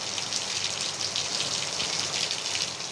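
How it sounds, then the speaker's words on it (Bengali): Heavy rain falls steadily in a village with bamboo and jackfruit trees, a dense, even hiss of drops on surfaces that continues without pause. "দেখতেছেন এই যে বৃষ্টি পড়তেছে।"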